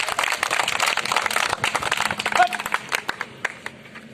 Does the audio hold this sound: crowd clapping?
yes